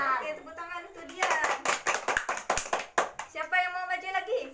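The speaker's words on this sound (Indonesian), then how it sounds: "tepuk tangan untuk dia." Primary school children clapping together in a classroom during a practice teaching lesson, a quick burst of loud, sharp claps in the middle, with a child's and teacher's voices talking before and after.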